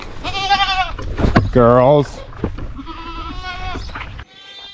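Goats bleating on a farm, several loud, close, wavering calls in quick succession, mixed with a person speaking briefly between them.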